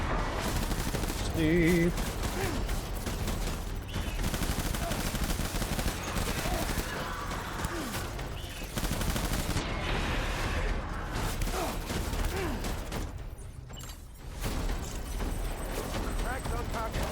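Rapid assault rifle fire in a shooter video game, sustained bursts of gunfire crackling across the whole stretch under a busy game soundscape, with a person talking briefly over it.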